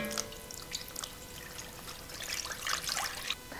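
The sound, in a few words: water poured into pan of artichokes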